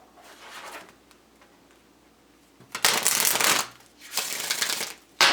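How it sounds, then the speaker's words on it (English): Tarot wisdom cards are riffled in two loud, sharp bursts of shuffling separated by a brief pause, close up and with no talk over them. "Let's get 3 shuffles and we'll get you your wisdom cards."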